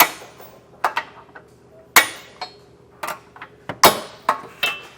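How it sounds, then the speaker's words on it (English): A hammer taps a long socket extension to seat a bolt while installing an etrailer hitch receiver on a 2021 Hyundai Palisade: about a dozen sharp metallic raps, irregular and close, some louder than others, alone without talk. "kind of just helps to be able to tap it in with a hammer"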